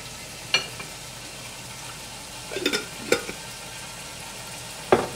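Beef chow mein frying in a pan, with a soft steady sizzle underneath and a few sharp scraping clicks from stirring scattered through, close and fairly quiet.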